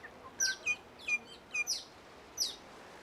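Saddleback wattlebird calling in a regenerating forest on a New Zealand island, a series of about five short, clear chirping notes spaced irregularly over a few seconds, fairly close against a quiet background.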